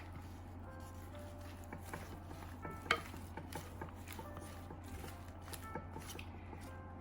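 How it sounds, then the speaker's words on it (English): Feta cheese Greek salad being tossed in a bowl, faint soft rustling and stirring with a few light clicks of utensils against the bowl, quiet and close, no voices. "now let's give it a good mix"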